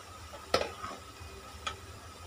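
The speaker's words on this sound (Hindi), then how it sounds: "अभी मैं इसको हिला के इसको ढक्कन लगा के बंद कर दूंगी" A spoon scrapes twice through beetroot sabji with onion, tomato, masala and salt frying in a pan, with a soft sizzle underneath; the two short, close stirring strokes are about a second apart.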